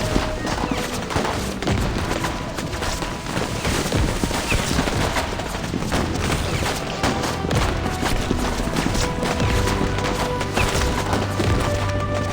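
Rapid gunfire crackles through a battle scene in the Reverse 1999 video game, dense overlapping shots and impacts sustained loud and close across the whole stretch with no clear pauses.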